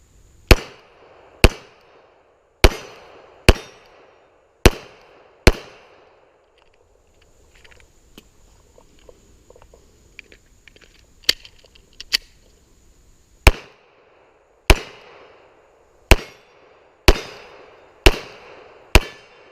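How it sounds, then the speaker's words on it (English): Small-caliber Glock 42 pistol fired outdoors: loud, sharp gunshots in two bursts of six and eight, spaced about a second apart, with a quieter stretch of faint handling noises between them. "Like any Glock, it shoots pretty consistently."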